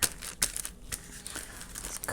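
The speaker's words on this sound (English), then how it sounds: "Literally just chopping that bit of napkin off." A bit of napkin is cut away for a collage, giving close, soft crinkling and tearing rustles in irregular bursts, with quiet gaps between them.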